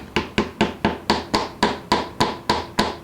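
A guitar part tapped into place during the build of a Martin 00 style acoustic guitar, about a dozen sharp, even hammer taps on wood in a steady rhythm, close and clear with no talk.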